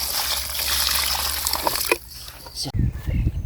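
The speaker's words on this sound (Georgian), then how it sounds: "დავუსხამ წყალს" Water poured from a container onto a freshly planted cutting, a steady trickle and splash for a few seconds before a brief louder slosh near the end, fairly close.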